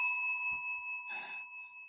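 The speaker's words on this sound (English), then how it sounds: "Speaking of Lydia, thank you for the bell." A small bell is struck once on a livestream, a bright ringing ding with a steady sustained tone that lingers clearly after the strike, close and alone with no talk.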